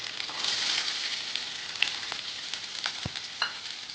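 Onions fry in a pan for a black chickpea masala curry, giving a bright steady sizzle that fades slightly as the clip goes on, with light stirring taps and a few pops, and no talking.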